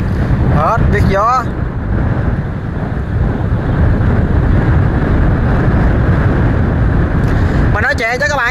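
Strong wind buffets the microphone aboard a small river barge driven by two engines, roaring loud and steady for the whole stretch, with a voice talking over it at the start and end.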